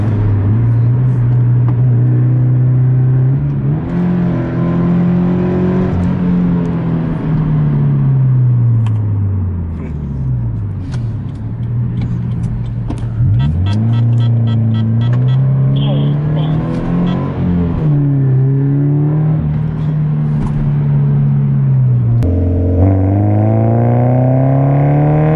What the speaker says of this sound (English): I'm going to go down to 50 miles per hour and I'll accelerate